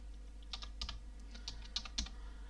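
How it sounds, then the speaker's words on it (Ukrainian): Keys on a computer keyboard are pressed, including the Enter key, as a handful of soft, close clicks in an irregular rhythm over a low steady hum. "Натискаю Enter і ще раз Enter"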